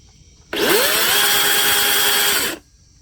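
A Dewalt electric chainsaw runs for about two seconds at close range, starting abruptly with a rising whine, holding a steady loud motor and chain buzz, then cutting off cleanly.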